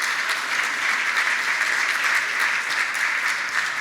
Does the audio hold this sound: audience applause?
yes